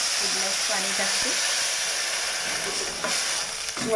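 Water poured into a hot pan of moong vadi, giving a loud, dense hiss and sizzle that stays steady and close for the whole stretch, with a faint voice briefly underneath.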